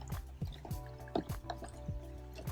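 Dishes are washed and rinsed in a basin of water at a campsite, with repeated close splashes, drips and sloshes coming in irregular bursts at a soft level, with no voices.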